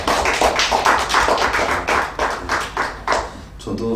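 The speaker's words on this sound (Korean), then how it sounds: "다시 한번 하나님께 영광의 박수 드리시겠습니다." A church congregation at a Sunday service claps together in a loud, steady rhythmic beat, close and full, with no talk over it.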